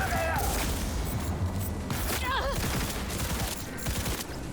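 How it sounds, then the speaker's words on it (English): Rapid bursts of gunfire from a newly acquired gun in Cyberpunk 2077 crackle loudly and continuously, layered with dense game effects and a faint voice underneath. "Okay, I'm shooting him in the leg."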